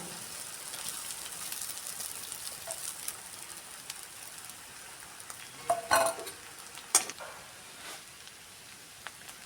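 Freshly grated coconut, three coconuts' worth, sautés in a pan for coconut rice. A faint, steady sizzle is broken by two sharp utensil clinks midway, and no voices are heard.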